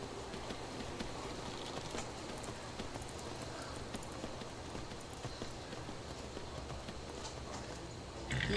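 Horse hooves in Skyrim clip-clop at a steady running rhythm for the whole stretch, fairly close and continuous, with soft outdoor ambience behind them.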